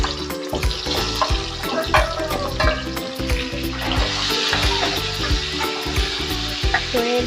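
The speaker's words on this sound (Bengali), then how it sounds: "এই তেলে আমি এখন এখানকার আলু আর এই কচুগুলো আমি একটু ভাজে নিব হালকা করে।" Potatoes and taro frying lightly in oil left from frying rohu fish, giving a steady close sizzle under irregular clatter and scraping of a utensil against the pan.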